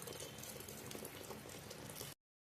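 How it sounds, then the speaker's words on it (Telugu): Boiled jaggery syrup is poured into moong dal in a home kitchen, a soft continuous bubbling, liquid rush that stops abruptly after about two seconds. "ఇప్పుడు అది ఉడబట్టి మనం పెసరపప్పులో పోసుకుంటున్నాం."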